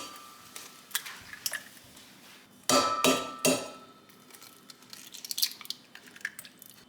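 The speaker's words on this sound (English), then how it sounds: "Cracking our eggs into this mixing bowl." Eggs cracked into a mixing bowl for a vegetable egg bake with purple pepper and spinach: a few sharp taps and cracks, a cluster of loud knocks on the bowl, then lighter clinks and drips, close and without talk.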